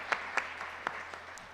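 Sparse, scattered claps from an audience at a closing ceremony, applauding sign language interpreters; a few separate claps stand out over a quiet hall background, faint and distant.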